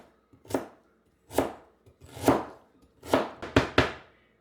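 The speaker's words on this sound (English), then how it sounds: "We chopped up the ginger into fine pieces." Fresh peeled ginger being chopped with a knife on a board: about seven crisp, close chops, spaced out at first and then quicker at the end, with no voices.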